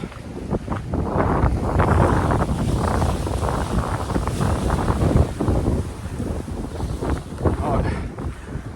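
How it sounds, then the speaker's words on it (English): Loud gusting wind buffets the microphone while seawater splashes over a wall and sprays in repeated bursts close by. "the salt water that's coming splashing over this wall"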